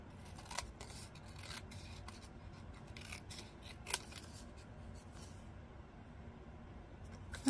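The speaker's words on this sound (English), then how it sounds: "I'm just cutting away the embossed parts." Scissors cut away embossed parts of a paper piece, a series of quiet, crisp snips scattered through the stretch, close and alone over faint room noise, with one sharper snip standing out.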